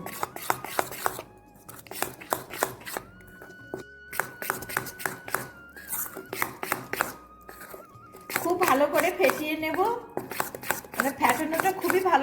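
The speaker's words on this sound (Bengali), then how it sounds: "তিন চামচ ময়দা দিচ্ছি এক চামচ চালের গুঁড়ো খুব ভালো করে এবার মিশিয়ে নেব" A batter of wheat flour and rice flour for mung dal gokul pitha is stirred by hand in a bowl, with rapid rhythmic clicking strokes that grow busier toward the end and a voice heard at times.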